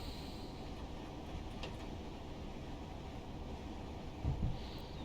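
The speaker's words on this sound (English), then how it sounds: "I like being able to put the train up to full power" A Class 387 electric train accelerating at full power in Train Simulator Classic, running between Moorgate and Welwyn Garden City, gives a steady, dense low rumble throughout, with a slight louder bump near the end.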